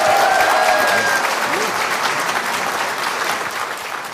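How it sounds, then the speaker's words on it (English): A dense, steady wash of applause from a conference audience for Dr. Samir Osmanagich, loud and sustained throughout and easing slightly toward the end, with faint voices mixed into the crowd. "So another round of applause for Dr."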